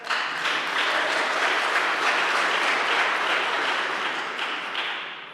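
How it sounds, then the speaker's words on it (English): An audience claps at a Cleveland city council meeting, a sustained and loud burst of many hands that fills the room evenly and tapers slightly at the end. "You can clap. Go ahead and clap."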